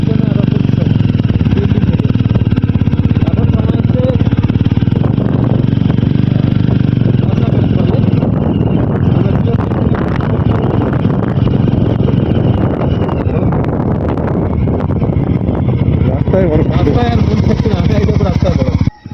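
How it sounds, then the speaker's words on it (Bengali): Motorcycle engine hums steadily on a mountain ride toward Zero Point in North Sikkim, high among snowy peaks, mixed with heavy wind buffeting the microphone throughout. "এই মুহূর্তে আমি বাইক নিয়ে ঢুকছি 0 পয়েন্টে"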